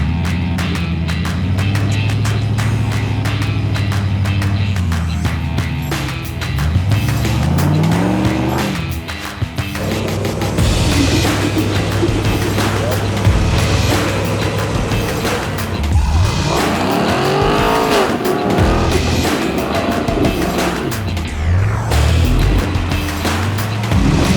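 Off-road vehicle engine revving hard over a rock obstacle at Farmington, loud and sustained with surging throttle and rising, falling pitch, tires scrabbling, no talk.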